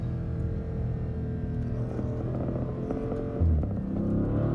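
Dodge Scat Pack engine drones steadily from inside the car, loud and continuous, with a sudden shift in pitch and a brief surge near the end as it upshifts.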